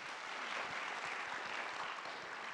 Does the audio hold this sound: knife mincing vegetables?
no